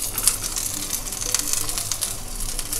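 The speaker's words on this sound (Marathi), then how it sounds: "आणि आता हे ओलं खोबरं घालून हे भाजून घ्यायचं आहे" Freshly grated coconut roasting in hot oil in a pan for a village-style Konkan chicken curry, giving a steady close sizzle with soft crackles throughout.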